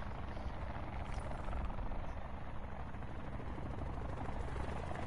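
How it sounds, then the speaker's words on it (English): Helicopter in a video game flying overhead, a steady loud rotor drone with whirring blades that holds throughout without breaks. "I do hear a helicopter."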